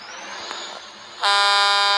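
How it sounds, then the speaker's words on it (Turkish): A loud truck horn on a new lorry bursts in after a stretch of engine and road noise, holding a steady, rich, multi-toned blare to the end. "Sen kornaya bak böyle korna mı olur?"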